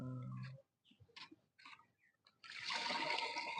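Water poured into a container to mix a garden spray for eggplant plants, a sudden steady gush in the final second after a few quiet clicks and rustles.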